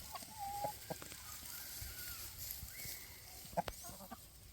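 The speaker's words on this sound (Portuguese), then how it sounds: "Galinhas caipiras comuns, essas sem raça definida, elas aproveitam o máximo possível o piquete" Free-range mixed-breed chickens in a paddock cluck faintly and intermittently in quiet outdoor surroundings, with a few brief soft calls scattered over low background noise.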